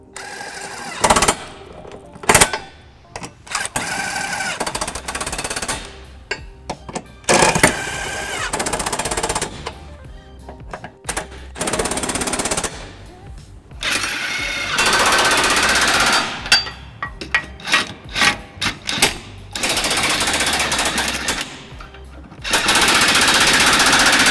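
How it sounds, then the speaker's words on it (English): An impact wrench with a 17mm socket rattles in loud bursts, hammering hard for a few seconds at a time with short pauses between runs, close up, running up trailer hitch bolts on a 1999 Lexus RX300. "we're going to run these bolts up using a 17mm socket, and I've got a little impact here"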